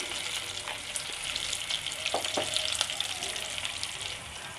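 Cardamom and cinnamon fry in hot oil with a steady, close sizzle and occasional crackles and stirring, as the base for a chana dal with chicken gizzard and liver.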